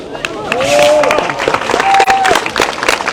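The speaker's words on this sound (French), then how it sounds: "on peut les applaudir" A large crowd on a harbour quay applauds the boat-building team at a yacht christening, with scattered claps and cheers mixed under loud nearby voices and a whistle.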